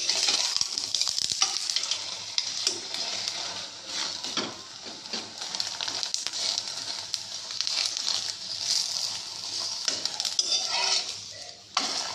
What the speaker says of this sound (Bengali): আমি আর একটা ছেঁকে নিচ্ছি।